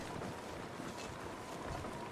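Cold wind blows steadily in the survival video game The Long Dark during bad weather, a continuous loud roar and rush with no pauses.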